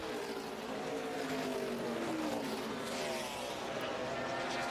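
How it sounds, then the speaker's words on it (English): NASCAR Sprint Cup race cars lapping Watkins Glen in final practice, their engines a steady loud roar with shifting pitch as cars power through the turns, continuous for several seconds. "See that car sliding around as they went through turn 2 and up through the S's here"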